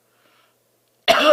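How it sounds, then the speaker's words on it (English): A single short, sharp cough from a man lecturing in a quiet room bursts out after near silence and is close and loud. "just have cough."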